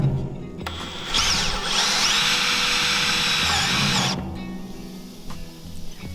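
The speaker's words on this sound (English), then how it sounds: "drill into the board, and then with deck screws, and then once I go into the board, I'll then go into the steel drum" A power drill drives deck screws through a board into a steel 55-gallon drum, giving a loud, high whirring burst of about three seconds that winds down into quieter handling noise, with no talk.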